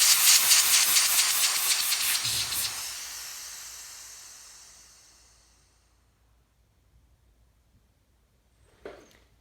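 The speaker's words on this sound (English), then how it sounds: "you can hear the pressure coming out" Pressurized gas hisses out loudly from a BluVac plural plus unit with a sputtering rush, then slowly tapers to silence; a brief faint knock follows near the end.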